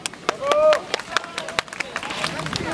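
Scattered clapping from a crowd at an outdoor family picnic, a loose patter of individual claps with murmuring voices and a speaking voice mixed in.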